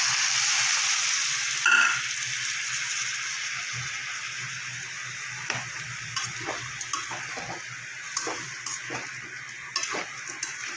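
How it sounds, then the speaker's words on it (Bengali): Whole spices sizzling in hot oil as a tempering for a vegetarian pumpkin curry, a steady close hiss with occasional light ticks and pops throughout, no talking. "ফোড়নটা আমার ভাজা হয়ে যাচ্ছে।"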